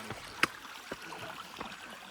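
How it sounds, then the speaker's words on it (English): A creek flows with a soft, continuous watery rush, broken by a few faint knocks and splashes, heard alone with no talking. "All right, we've made it down to the creek."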